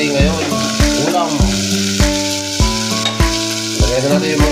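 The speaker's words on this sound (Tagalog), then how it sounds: "Lagyan natin yung mga isda. Prito, isdang galunggong." Galunggong fish frying in a pan of oil, giving a loud, close, continuous sizzle with rhythmic bursts of crackling, heard alone without talking.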